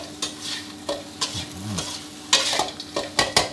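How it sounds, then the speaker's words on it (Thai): Egg tofu stir-fried with chili, garlic and seasoning over medium-high heat: a spatula scrapes the pan in repeated loud strokes over a constant close sizzle. "ผัดคลุกคล้าให้เข้ากันดีเลยครับ"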